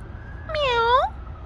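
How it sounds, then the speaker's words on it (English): A single clear cat meow, drawn out and slightly rising then falling, close by against a quiet background. "Hi, pretty cat."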